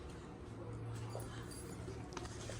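A pet dog whimpers in an indoor setting, giving soft, intermittent whines and small yips over a low background hum, with faint talk in the room.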